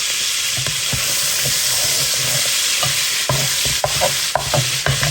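A spoon stirs rice and beans with bacon and salty pork in a pan over low heat, giving a steady close sizzle broken by repeated scraping and clinking strokes.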